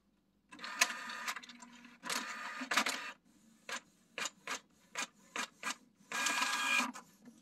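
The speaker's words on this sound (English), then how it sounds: "that should start printing" A Canon PIXMA printer prints after an E02 paper error is cleared, with long whirring feed passes broken by a run of short, evenly spaced mechanical clicks and thumps, close and clear with no talk.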